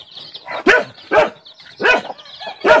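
A dog barks in quick, sharp bursts, several barks over a few seconds, fairly close, with a faint whimpering tone between them.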